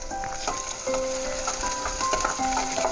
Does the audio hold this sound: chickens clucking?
no